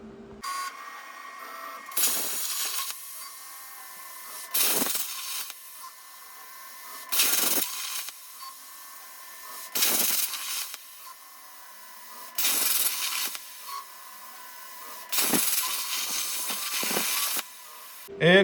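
A DIY CNC plasma table cuts a part for a C10 custom four-link build, giving six loud bursts of hissing, crackling cutting, each about a second long and spaced at regular intervals over a steady background hum.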